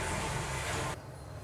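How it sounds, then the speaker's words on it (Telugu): A kitchen mixer grinder blending a turmeric and salt mixture, a steady whirring drone that runs close and even, then cuts off abruptly near the end, leaving faint room noise. "ఈ విధంగా మిక్సీ పట్టుకొని పక్కన పెట్టేసుకోవాలి."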